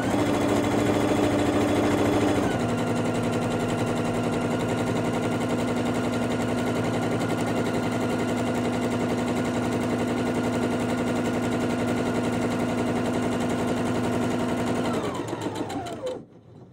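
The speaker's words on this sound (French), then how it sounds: "j'assemble endroit contre endroit le tour de ma capuche, le fond de ma capuche" A sewing machine runs at steady speed as it stitches the back seam of a hood, right sides together. The motor whirs and the needle clatters close and continuously, then the machine slows and stops near the end.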